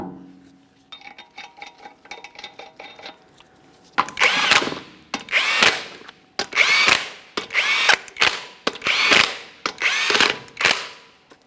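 A power tool running lug nuts onto a GMC Acadia wheel: soft ratcheting spins at first, then a series of loud, close, rising whirring bursts separated by short pauses, with no voices.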